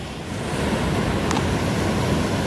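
A North Carolina mountain stream, reshaped by the Hurricane Helene flood, rushes in a steady broadband roar, loud and continuous with no voices.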